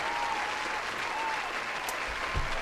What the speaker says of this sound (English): Here's another round of applause because you did an awesome job